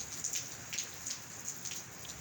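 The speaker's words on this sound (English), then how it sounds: "I love the rain." Light rain falls steadily, a soft, even patter with scattered louder drops, faint and close, with no voices.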